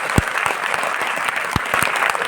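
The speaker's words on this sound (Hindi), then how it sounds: "एक बार जोरदार तालियां यार" A seminar audience in Delhi bursts into loud applause, a thick burst of clapping with a few sharp, close hand claps standing out across the short stretch.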